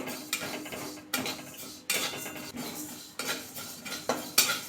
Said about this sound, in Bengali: ডালটা নাড়াচাড়া করতে করতে কিন্তু ভাজা হয়ে গেছে